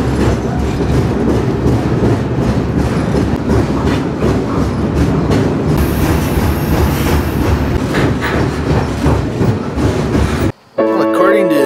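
A freight train on the Meridian Speedway line between Birmingham and Dallas rolls along the rails with a loud, continuous roar and rhythmic clickety-clack of wheels, heard up close from aboard before a brief cut at the end.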